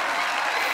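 A studio audience at a Marathi comedy show claps loudly and densely in one short continuous burst, with no voices over it.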